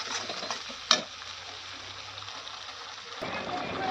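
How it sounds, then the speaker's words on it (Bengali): Spice masala being stir-fried in a pan for aloo dum, a steady broadband sizzle with scraping stirs and one sharp clink near the start, continuous and close throughout. "ভালো করে মশলাটাকে কিন্তু কষাতে হবে। 5 মিনিট ধরে মশলাটাকে কষিয়ে নেব।"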